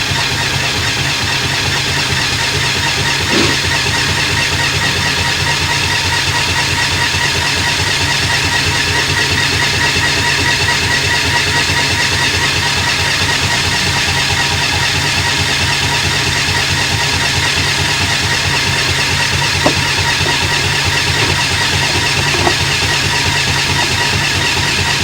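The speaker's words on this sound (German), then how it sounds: "auch gleich anfangen zu sägen." A motorized fischertechnik model saw runs continuously, giving a loud, even mechanical whir with a steady rhythmic buzz from its small drive motor. Faint clicks occasionally break through, and no one speaks.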